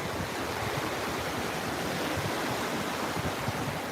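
Shallow water rushing onto the shore at Fort Myers Beach as a brisk current rather than breaking waves, a steady, close, full wash of surf noise with no voices.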